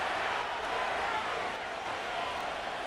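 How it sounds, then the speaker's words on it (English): Stadium crowd in a football video game booing a referee's call, a dense, steady roar of disapproval filling the whole stretch without breaks. "The crowd does not agree with that call. Boos ring out."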